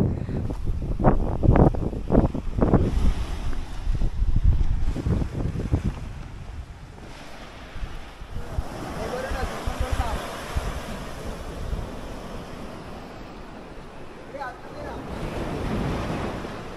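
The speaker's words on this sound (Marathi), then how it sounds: "एकदम मस्त जी थंड हवा आपल्याला इथं मारते भर उन्हामध्ये" Cool sea wind blows across Devghali beach at Kasheli on the Konkan coast, roaring steadily into the microphone with strong gusts early on, over a soft wash of surf.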